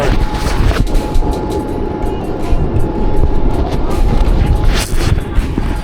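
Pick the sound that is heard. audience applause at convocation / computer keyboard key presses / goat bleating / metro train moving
metro train moving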